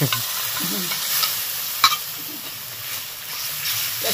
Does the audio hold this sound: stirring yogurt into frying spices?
yes